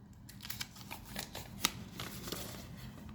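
Tarot cards are shuffled and drawn in soft papery riffles and slides, faint and close, with a sharper snap near the middle and no talking.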